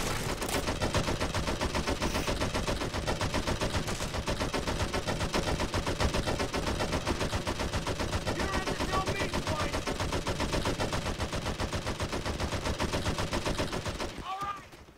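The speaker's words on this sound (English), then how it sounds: "we're having the entire platoon crawl across gunfire" Sustained rapid machine gun fire in the video game Men of War rattles continuously at high volume for many seconds, dense and unbroken, then cuts off abruptly near the end.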